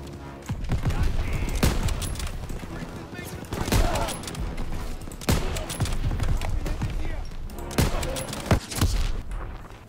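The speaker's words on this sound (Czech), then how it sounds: "Co to bylo? Aha, granát" A grenade explodes in Call of Duty: WWII amid a running firefight. Several sharp, heavy blasts punch through continuous gunfire while players talk over the action.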